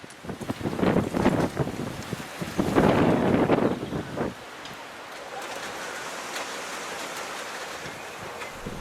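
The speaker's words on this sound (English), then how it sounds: "The wind is starting to pick up." High wind with rain on an allotment, loud gusts buffeting the microphone in surges, then easing to a steady, softer rushing hiss.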